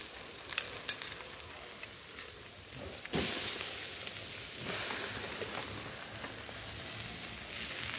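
Fish roasting over charcoal at a family churrasco gives a steady, hissing sizzle with soft crackles, fairly faint and close, swelling louder after a few seconds as the fish is turned.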